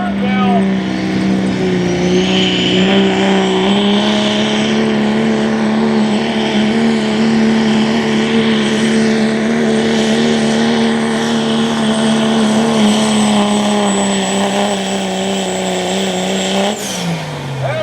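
Street-class semi truck engine roaring steadily at a truck and tractor pull, a loud sustained drone that climbs slightly in pitch and holds for most of the run before cutting off abruptly near the end.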